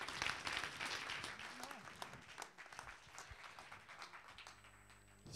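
Audience at a French vocational-education conference applauds as performers take the stage, a dense, steady patter of many hands from the start, thinning slightly toward the end as a faint tone and some background murmur come through.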